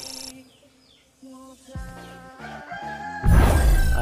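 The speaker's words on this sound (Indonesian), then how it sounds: "ada ayam pula bekokok." A rooster crows nearby, a drawn-out call standing out over quiet background, followed by a sudden burst of loud noise.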